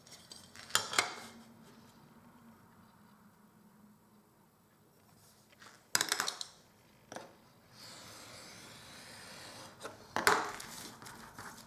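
Scissors cutting a cardboard template 3.5 cm wide, a few sharp snips and rustles of card spaced apart with quiet handling in between, close and fairly soft.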